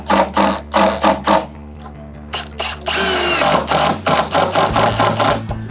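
A power drill drives screws into deck boards on outdoor deck framing, with loud bursts of whirring motor in short repeated pulses, then a longer sustained run followed by several more quick bursts.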